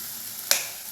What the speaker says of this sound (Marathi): आता आपण अंडा टाकून घेऊया